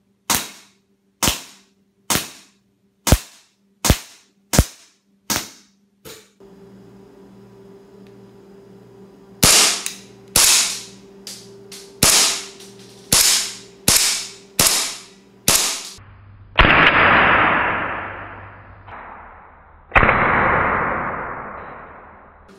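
An SRC SR1911 airsoft pistol fires a string of sharp, evenly spaced blowback shots, loud and close, then a few longer hissing bursts with gaps between them.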